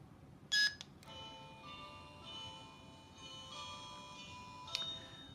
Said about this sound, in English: just hold it down until it beeps and it switches to the other font